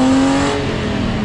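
A Jannarelly Design-1 sports car gives a brief, loud engine rev, a sustained throaty tone that shifts pitch as it accelerates, close by.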